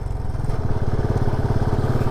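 Motorcycles of touring bikers gathered in Chitkul village near the India–Tibet border, Himachal: a steady close engine rumble with a rapid pulsing idle throughout, no talk.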